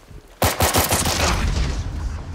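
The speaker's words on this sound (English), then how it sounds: "Where are you shooting this guy from?" Rapid bursts of automatic gunfire from the shooter game Firewall Ultra erupt loudly after a brief quiet start, a dense rattling volley that carries on steadily to the end.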